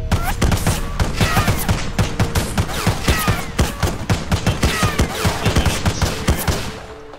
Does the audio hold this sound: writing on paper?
no